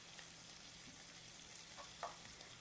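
Chili peppers and a whole head of garlic fry in a pan, giving a soft, steady sizzle with a couple of faint scraping stir sounds near the end.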